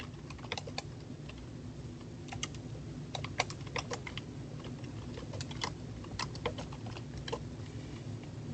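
Rapid typing on a computer keyboard while entering a chapter in Moodle, a steady run of close, crisp key clicks in small bursts with brief pauses and no talking.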